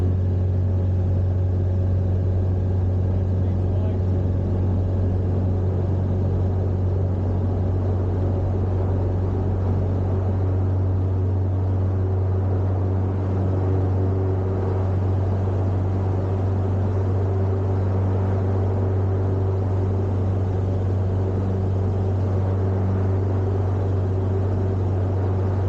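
A light aircraft takes off down runway 15 on a 700-metre grass airfield in a crosswind, its engine a loud, steady, droning rumble that stays close and constant throughout.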